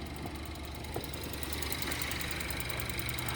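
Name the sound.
Jetour X90 Plus Chery engine idling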